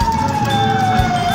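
Fire engine siren wailing steadily and loud at a fire in the 5 Ilir district, its sustained rising and falling tone continuous throughout, with faint background traffic and street noise beneath it.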